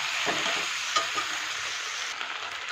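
Spices with turmeric and salt are stir-fried in a pan, giving a steady, close sizzle broken by a few scraping strokes of a spatula, with no talking.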